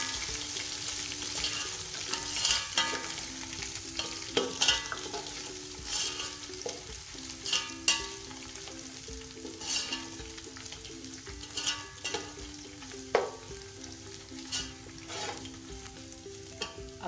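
Rice roasting in ghee for chicken yakhni pulao, a soft steady sizzle broken by repeated scraping stirs and clinks of a spoon against the pot, close and moderately quiet, with no talk.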